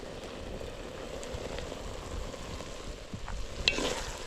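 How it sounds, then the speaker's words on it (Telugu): Mutton boti fries in a pan with chili powder in Telangana style, giving a steady close sizzle with scraping stirring sounds that grow rougher near the end. "ఒకసారి మళ్ళీ కలుపుకోండి కారం వేసిన తర్వాత కలుపుకుంటానే ఉండాలి"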